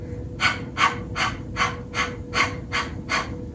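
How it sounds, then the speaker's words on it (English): Rhythmic forceful exhales in pranayama breathing, panting like a dog: eight quick, evenly spaced breathy bursts, close and clear, over a faint steady hum. "we're going to exhale forcefully"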